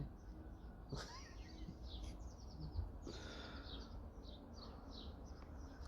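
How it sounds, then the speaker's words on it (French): Several small birds chirp in the trees outdoors, rapid bright twittering calls repeating in quick clusters at moderate distance over a steady background hush. "Tous les oiseaux, ils sont tous là, dans les arbres."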